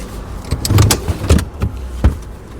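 Seats in a Citroen C4 Grand Picasso minivan are shifted and folded, giving a few close, dull thumps and clunks with short mechanical rattles and scrapes, and no talking.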